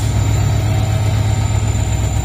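Twin Indian diesel locomotives, a WDG4 and a WDG4G sharing load, idle with a loud, steady, deep engine rumble and a constant high whine riding above it, close by and with no talk.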